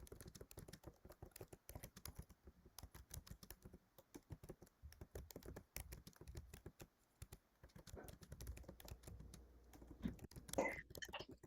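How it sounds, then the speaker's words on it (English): Somebody typing on a computer keyboard during an online meeting, a steady patter of faint, close key clicks in irregular bursts, with soft murmuring near the end. "all I can hear is somebody typing."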